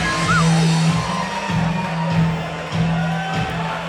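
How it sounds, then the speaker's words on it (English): A fight crowd whoops and cheers at a fighter's walkout, with shouts and yells rising over a steady loud hum of walkout music, continuous and dense throughout. "Good pop from the crowd."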